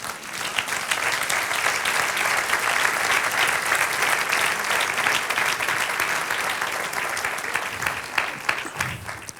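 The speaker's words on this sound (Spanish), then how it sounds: "Denle un aplauso al Señor." Applause from a congregation at a Spanish-language church service during a pastor's sermon: sustained, dense clapping that holds at an even level for the whole stretch before tapering slightly at the end.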